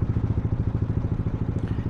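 A motorcycle fitted with a loud aftermarket Villain exhaust pipe idles nearby, throbbing with rapid, even, throaty pulses at steady volume, with no speech over it.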